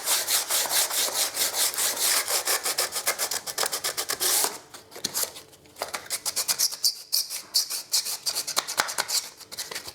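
Edges of a water-stained surface being hand-sanded with coarse P80 sandpaper, a steady run of quick, close scratchy strokes that pauses briefly midway before resuming in shorter bursts.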